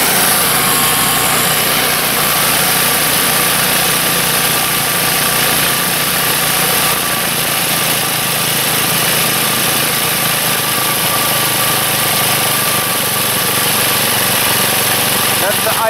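A small go-kart engine idles steadily, a loud, close, continuous high-pitched buzzing drone with an even mechanical rattle throughout.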